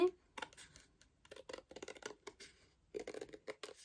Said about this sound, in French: Donc là, je le découpe grossièrement.